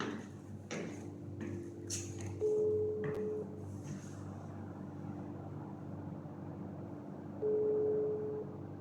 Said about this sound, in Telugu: కాల్ చేద్దాం ఇక కస్టమర్కి